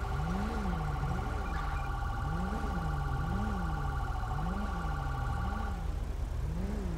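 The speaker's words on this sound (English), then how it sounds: "An ambulance is responding, code 3." Ambulance siren in GTA 5 with the LSPDFR police mod, a loud wailing siren rising and falling steadily throughout, with a steady high electronic tone running alongside for most of it and no talk.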